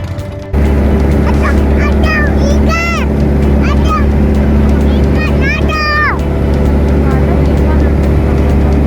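A boat engine drones loudly and steadily on a trip to Pulau Kelor in the Kepulauan Seribu islands, with people talking over the constant rumble throughout.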